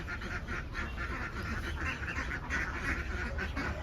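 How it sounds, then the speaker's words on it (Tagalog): Domestic ducks on a small backyard farm keep up a continuous chorus of rhythmic quacking, fairly faint and steady throughout, with no talk over it. "Tsaka mga itik, yun, mga itik ko yan."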